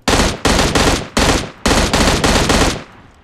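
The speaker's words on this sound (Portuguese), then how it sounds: "Se ele tava tá atirando, ele tá atirando em outra pessoa." Rapid bursts of automatic gunfire in the mobile battle royale game PUBG Mobile, six loud strings of shots in a row with short gaps between them, ending in a fading echo.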